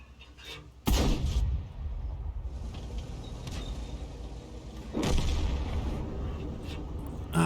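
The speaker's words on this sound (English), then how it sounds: "We're firing blind shots in." An SU-100M1 tank destroyer's gun fires blind shots in a tank video game: two heavy booms about four seconds apart, each with a long rumbling tail over a low background drone.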